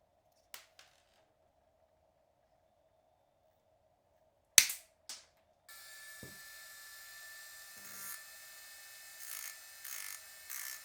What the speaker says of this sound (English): remove the crown and cut around 10 millimeters off this crown stem